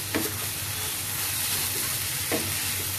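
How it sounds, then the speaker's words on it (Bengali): Maggi noodles stir-fried in butter in a pan, a steady sizzle with a couple of brief scraping stirs, close and fairly loud, with no talking. "নুডলসটাকে যাতে এই জিনিসটার সাথে সুন্দরভাবে ভাজা হয় সেটার জন্য মিক্সড আপ করব আর কি"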